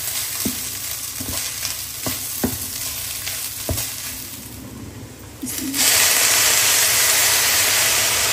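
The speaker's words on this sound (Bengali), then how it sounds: "এই চালটা আমি কিমার সাথে একটু সময় ভাজবো।" Rice and minced meat fry together in a pan, with a dense, loud sizzle and regular stirring scrapes that swell into a strong, constant hiss.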